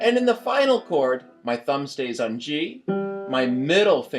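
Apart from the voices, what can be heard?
No everyday noise stands out behind the speech.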